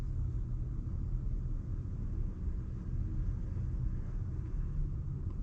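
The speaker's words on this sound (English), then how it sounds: "I hear other vehicles outside. It's very faint." Faint traffic from other vehicles passing outside, heard from inside a parked Rivian R1T Launch Edition: a steady low rumble that stays constant, with no talking.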